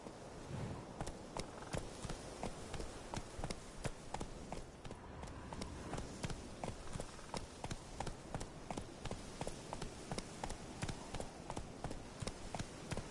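Roach, the horse in The Witcher 3, gallops with a quick, regular clip-clop of hooves that runs steadily through the whole stretch at a fairly quiet level.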